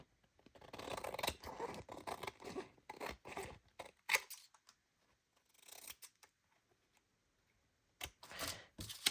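Scissors snipping through junk mail paper, close and quiet: bursts of crisp cutting strokes in uneven runs separated by pauses, with light paper handling and no talking.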